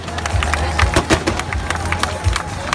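A crowd cheers for a T-Rex vehicle and infantry soldiers at the Singapore Army Open House 2017 military display, with steady babble and scattered sharp bursts over a rough outdoor rumble.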